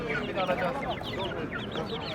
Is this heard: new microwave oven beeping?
no